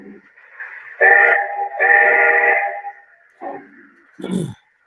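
A Legacy Pacific 462 model steam locomotive whistle sounds in several separate toots, clear and close, with a short pause and a final lower blast.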